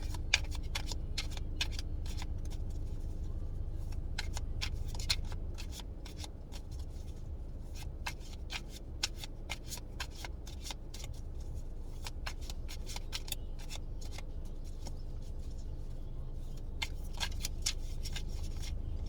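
Tarot cards are shuffled repeatedly: rapid papery riffles and snaps over a low background hum, with quieter pauses between bursts.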